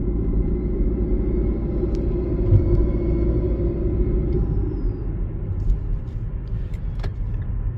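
An Infiniti QX50 engine with an intake mod growls with a deep, steady rumble as it is revved, loud and close, holding a throaty drone throughout with no voices.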